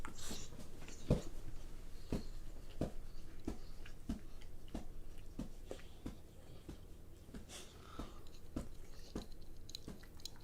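A dog's tail taps steadily against a surface indoors, making a quick, regular series of soft knocks that keeps going for several seconds.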